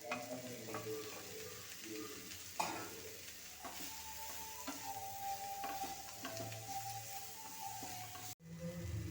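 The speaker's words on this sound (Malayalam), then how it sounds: "സോയ ഒന്ന് ഇളക്കി അതിൻ്റെ കൂടെ തന്നെ ക്യാരറ്റ് ചിരക്കയും കൂടെ ഇട്ട് കൊടുക്കാം" Soya chunks with carrot and grated coconut stirred in a hot pan for a kootu curry, a low continuous sizzle with repeated scraping strokes of a spoon, close and soft, briefly cut off near the end.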